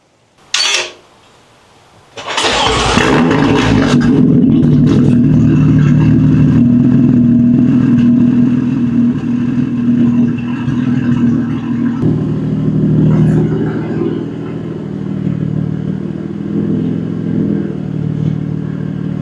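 A BMW M4 coupe starts with a sharp burst of cranking and a loud rev, then settles into a steady rumbling idle that grows and fades as the car is driven outdoors, close and prominent throughout.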